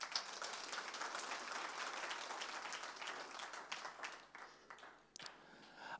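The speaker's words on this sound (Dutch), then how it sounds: "Mogen ze een applaus" Applause from a church congregation after a sermon, steady dense clapping that thins out toward the end, with a few scattered claps trailing off.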